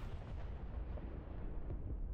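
A GBU-12 laser-guided bomb strikes a hangar in the DCS flight simulator, producing a sustained, heavy, low rumbling blast that rolls on for a couple of seconds at a moderate level.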